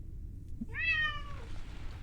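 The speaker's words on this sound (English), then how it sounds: "Wait, what's meowing?" A cat meows once from a companion cube in The Talos Principle video game, a single clear drawn-out mew in the middle of a low steady background hum.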